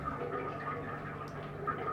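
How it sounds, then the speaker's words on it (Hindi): Water falls in a bathroom as a faint, continuous splashing trickle with soft drips, steady for the whole two seconds and with no voices. "निकी को बाथरूम से पानी गिरने की आवाज सुनाई देने लगी।"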